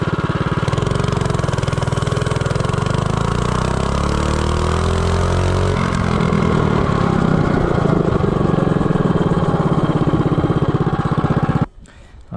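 An Azusa minibike fitted with a 212 Predator Ghost racing engine accelerates from a standstill to 30 mph, its loud buzzing small-engine note climbing steadily close by before cutting off near the end.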